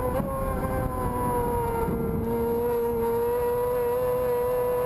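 Isle of Man TT racing sidecar engine straining in sixth gear, a loud sustained high-pitched howl holding nearly steady with slight pitch shifts, alone without talk.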